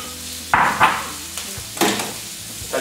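Shrimp frying with onion and poblano pepper in hot oil, a close crackling sizzle with several sharp bursts as pieces drop into the pan.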